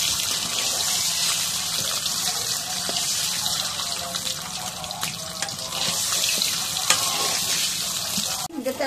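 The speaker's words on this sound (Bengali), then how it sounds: "এখন ডিম দিই। হাতে টানবে, তেল চটকেছে, তেল ছিটতে গেছে।" Duck eggs fry in hot oil with a loud, continuous hissing sizzle and spattering, close up, ending with a brief clatter.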